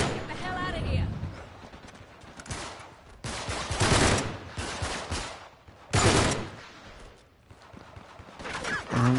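Gunfire in the Uncharted 3 video game, bursts of rapid shots in several loud clusters during an ambush, with someone talking over the firefight.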